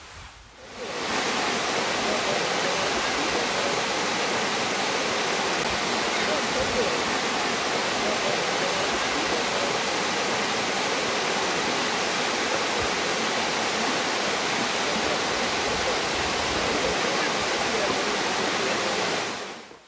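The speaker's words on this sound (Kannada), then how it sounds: "ನಾನು ನಮ್ಮೂರಿನ ಜಲಪಾತವನ್ನು ನಿಮಗೆ ಪರಿಚಯಿಸಲು ಬಂದಿದ್ದೇನೆ" Kundadka waterfall roaring as a dense, constant wash of falling water, loud and close, holding steady from start to end with no break.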